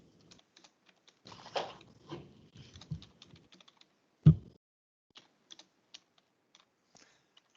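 Quiet, close keystrokes on a computer keyboard come in scattered bursts, with a few louder taps and a sharp clack partway through, set in an otherwise silent room.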